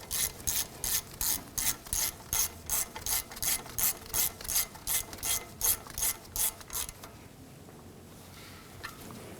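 A ratchet snugs down the front brake caliper bolts on a 1997-2006 Jeep Wrangler, about fourteen crisp, evenly spaced bursts of clicking up close. The clicking then stops and leaves quiet shop background.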